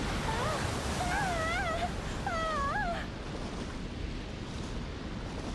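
Surging water in Shinobi (2002) roars as a steady broadband wash of waves, with warbling whistling tones over the first three seconds, then the rush continues alone at slightly lower level.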